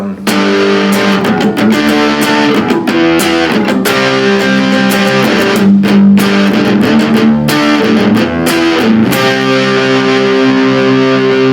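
Loud, heavily distorted electric guitar chords strummed in a steady rhythm, thick and saturated, with brief pauses between chord changes.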